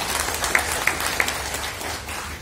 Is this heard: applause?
yes